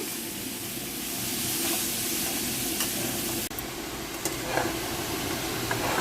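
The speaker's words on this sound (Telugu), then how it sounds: "ఇది బాగా ఈ నెయ్యిలో వేగిపోవాలి" Grated carrot fries in ghee in a pan for carrot halwa, giving a steady, close, continuous sizzle and hiss that holds for the whole stretch with no talking.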